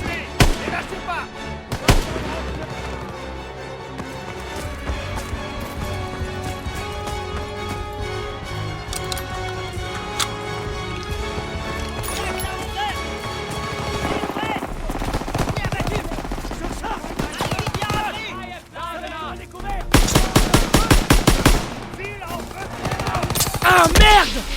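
Artillery and gunfire in a World War II video game set in Hürtgen, Germany, 1944: loud, continuous battle with rapid gunshot bursts, heavy booms and a dense volley of shots near the end, under a music score.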